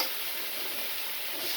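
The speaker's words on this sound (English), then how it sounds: "I don't know if you can hear me from all this frying" Food sizzles and fries in a pan, a dense, steady crackling hiss close up with no talk.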